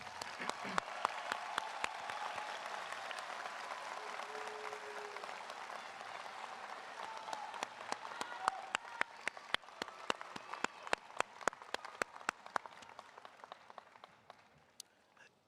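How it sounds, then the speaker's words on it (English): Audience applause fills a university graduation ceremony for the Schools of Business and Education, a dense steady clapping that swells and thins into scattered individual claps, faint and distant-sounding in a large hall. "Let's give them a round of applause"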